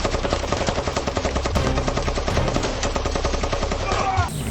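Rapid automatic gunfire from soldiers in a video game, dense continuous bursts of loud shots with no pauses, ending in a brief clatter.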